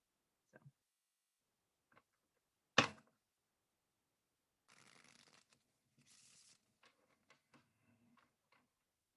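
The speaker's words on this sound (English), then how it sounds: "I'm going to show you guys real quick how I shuffle first" Bicycle playing cards being bridge-shuffled, a single deck: sparse soft taps, one sharp snap, then a fluttering riffle of cards for about two seconds followed by a few light clicks, all close and quiet.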